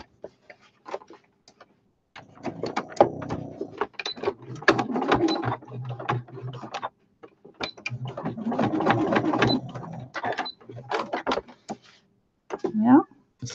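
A sewing machine stitches an anti-slip foot pedal cover in bursts of rapid mechanical whirring and clicking, starting and stopping several times, with brief pauses between runs.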